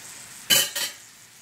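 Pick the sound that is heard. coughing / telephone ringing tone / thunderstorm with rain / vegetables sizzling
vegetables sizzling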